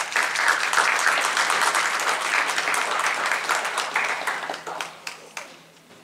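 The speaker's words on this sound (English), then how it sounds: "give them a round of applause" An audience at a senior sports banquet applauding, a full burst of many hands clapping that holds steady and then thins out and fades near the end.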